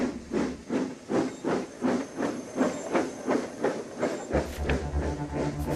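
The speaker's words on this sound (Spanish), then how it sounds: "Llegaba la máquina de vapor y con ella una revolución." A steam engine works in steady rhythmic puffs of hissing steam, about a dozen chuffs spread evenly over several seconds, followed by a lower droning rumble near the end.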